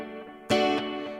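A guitar played through a clean patch on a BOSS ME-80 multi-effects pedal: a sustained chord rings out, then a fresh strum hits at the midpoint and decays with a bright, shimmering tail, no voice present.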